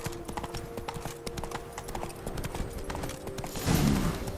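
A horse in The Witcher 3: Blood and Wine trots steadily with a quick, even clip-clop of hooves close by over a low game ambience, rising into a brief louder snort or whinny near the end.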